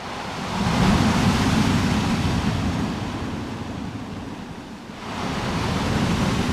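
Surf rumbling onto a beach along the Road to Hana, a steady broad wash of breaking waves that swells, eases slightly in the middle, then builds again, alone with no voices.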